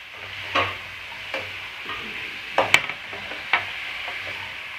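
Curry masala with mint and coriander for fish biryani is mixed in a pot, heard as a soft background sizzle with several distinct spoon knocks and scrapes against the vessel, no speech.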